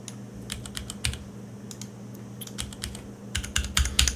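Rapid bursts of typing on a computer keyboard during Rust GUI software testing, irregular clusters of keystrokes close and clear over a low steady hum, with a denser flurry near the end.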